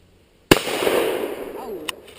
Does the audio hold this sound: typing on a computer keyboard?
no